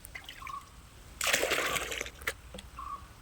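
Jeevamrutha liquid fertilizer is poured from a small mug onto an areca palm, a close, brief splashing gush in the middle with lighter trickles and drips around it, outdoors.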